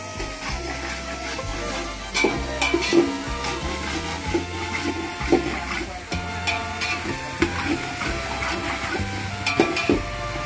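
Ginger-garlic powder and masala paste roasting in a pan for a hotel-style vegetable pulao, giving a steady close sizzle with scattered stirring scrapes and clinks throughout.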